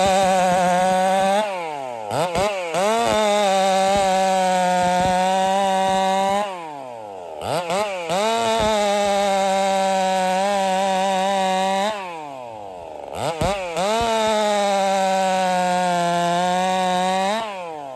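A race chainsaw screams at full throttle while cutting through wood, three long sustained cuts with the engine pitch dipping under load, separated by brief drops to idle and revving, loud and close.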